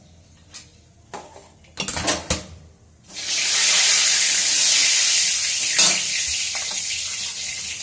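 Hot oil in a pan bursts into a loud, sustained sizzling hiss after salt is added, following a few sharp clinks and clatters of utensils against cookware.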